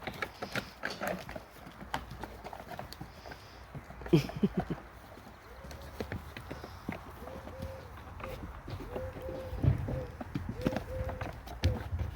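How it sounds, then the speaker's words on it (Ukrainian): Horses shift and stamp their hooves in an irregular series of thuds and clops, with soft snorts and light background noise between. "коні у нас б'ють копитом."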